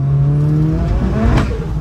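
A 450bhp turbocharged Mk4 Vauxhall Astra revs hard in second gear and climbs in pitch as it accelerates, loud and close, with a whooshing turbo whistle over the roar.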